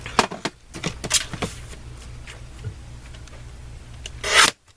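Card stock being cut down to size for handmade cards: a short series of crisp scraping, slicing strokes near the microphone, ending in one louder rasping pass before a brief silence.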